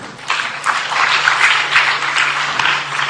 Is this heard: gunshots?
no